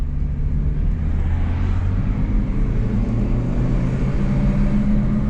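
A 2008 Toyota Prius Grand Touring drives along with a steady low rumble of road and tyre noise and a faint hum from inside the cabin, continuous and even throughout.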